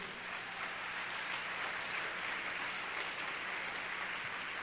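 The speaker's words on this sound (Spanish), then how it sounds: "Dale un fuerte aplauso a Dios." A crowd applauds steadily, a dense wash of clapping that holds at an even level from start to finish.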